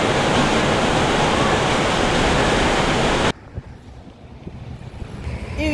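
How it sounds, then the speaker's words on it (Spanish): Manto de la Novia waterfall in Baños, Ecuador, roaring as a loud steady broadband rush for about three seconds, then cutting to a much quieter outdoor background. "esa es la cascada que se la conoce como el manto de la novia"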